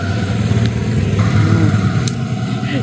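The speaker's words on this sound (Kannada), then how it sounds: "ಇನ್ನೊಂದು ಗಾಡಿ ಬರ್ತಾ ಇದೆ, ಇನ್ನೊಂದು ಬೈಕ್ ಬರ್ತಾ ಇದೆ" A motorbike engine hums close by on a road, a steady mid-pitched drone that swells slightly as it passes.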